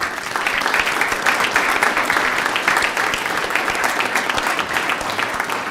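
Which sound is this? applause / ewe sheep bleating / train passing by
applause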